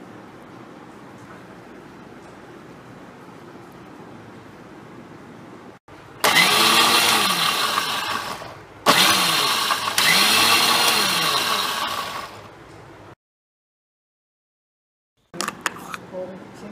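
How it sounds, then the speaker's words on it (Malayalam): Papaya is ground in an electric mixer grinder. After a quiet stretch, the motor roars loudly in two long bursts with a brief pause between, stops, then gives one short final whir. "ഇതാക്കി കഴിഞ്ഞ് കുറച്ച് തന്നെ ഇത് മിക്സിയിലോട്ട് അരച്ചെടുക്കാം."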